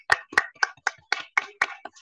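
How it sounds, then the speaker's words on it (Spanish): Audience applause at the Selecta Visión presentation panel at the 41st Comic Barcelona, heard as about eight sharp, close claps landing in an even, steady rhythm with no talk over them. "Un aplauso"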